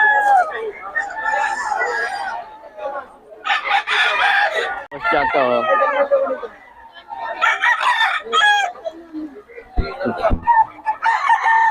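Roosters crowing repeatedly at an open-air market in Bocaue, loud and close, overlapping with clucking, while someone speaks briefly among the birds.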